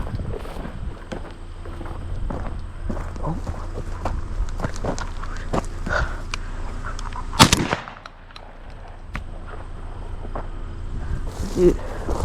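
A single sharp shotgun blast rings out during a dove hunt, loud and close over steady wind and outdoor noise, with the sound dying down just after.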